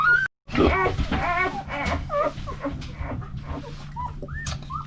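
A tiny 14-ounce puppy whimpers and yips close up in a rapid run of high, wavering cries and small grunts that lasts the whole moment, with no talking.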